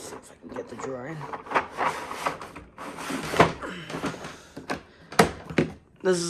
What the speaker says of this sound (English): see if I can get the drawer in.